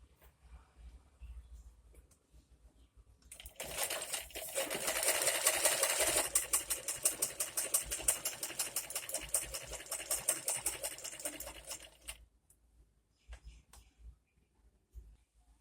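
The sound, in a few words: sewing machine stitching the side of a chador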